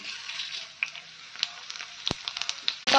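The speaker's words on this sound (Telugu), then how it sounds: "ఇప్పుడు ఈ లోపల పోపు, ఆవాలు, మినపప్పు, ఎండుమిర్చి, కరివేపాకు, మిరియాలు నేతిలో వేసుకోవాలి." Mustard seeds, urad dal, dried red chillies, curry leaves and black pepper sizzle in melted ghee as a tempering for pulagam, a steady close frying hiss with scattered sharp pops and a loud crackling burst at the end.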